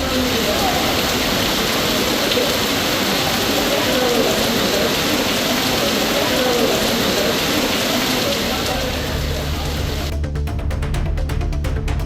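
Heavy rain pours down across hill-town neighbourhoods, a dense, loud, continuous roar of drops on surfaces that thins out near the end.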